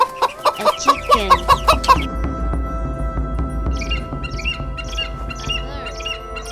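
Chicken clucking in a rapid series of loud, close squawky calls for the first two seconds, followed by softer bird chirps over a steady low hum.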